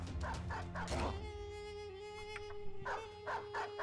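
A dog yelps and barks in the Battle Brothers video game during a battle, short dog cries and barks in quick bursts, mixed with other game sounds.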